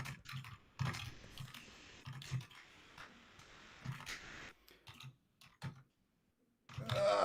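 Keyboard typing during an online Magic: The Gathering match: irregular bursts of clicking keystrokes, close and fairly loud, with short pauses between flurries.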